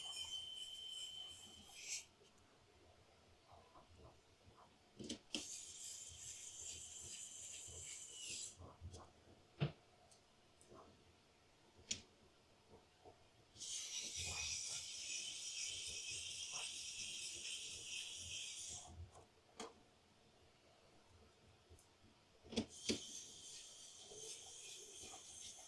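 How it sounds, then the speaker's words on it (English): Flathead screw caps being screwed into place by hand, heard as intermittent raspy scraping bursts of several seconds each, with short clicks and handling knocks between them and no talking. "Now we'll take our flathead screw caps and screw those into place."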